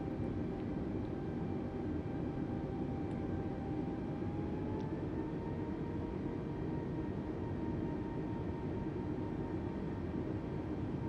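An Airbus A320 taxies slowly in Microsoft Flight Simulator, a steady low engine rumble and whine that holds evenly throughout, one tone gliding slightly upward midway, with no other sounds.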